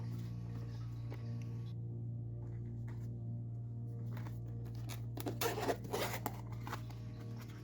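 A zipper on a padded carrying case for an Anbernic RG35XXSP clamshell handheld console runs in a few short, close rasping pulls, quiet against a steady low hum.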